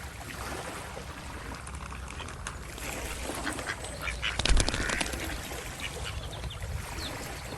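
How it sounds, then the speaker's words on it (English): Duck quacks sound over steady background noise, with a few scattered calls and a louder burst near the middle. "Quack, quack."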